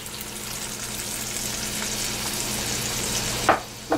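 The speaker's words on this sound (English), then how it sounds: "bring this mixture to a nice simmer as we stir this in and get it all nice and blended." Tomato paste and beef broth are stirred into a mixture simmering in a pan for a slow-cooker cassoulet, giving a steady soft sizzle and bubbling with a couple of louder scrapes of the spoon near the end.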